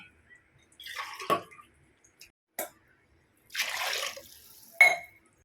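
Water poured into a pot of soaking rice for chicken biryani, coming as a few short splashy pours and trickles with brief gaps, fairly close and moderately quiet, no talking.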